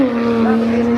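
A Lexus LFA supercar engine holds a loud, steady high-pitched note close by on a runway at a hypercar event, sustained throughout without a break.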